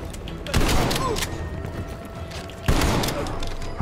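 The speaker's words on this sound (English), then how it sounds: "Oh, a shotgun's pretty nice." A shotgun in Call of Duty Cold War fires two loud, close blasts about two seconds apart, each trailing off into a rattling decay amid mechanical clatter.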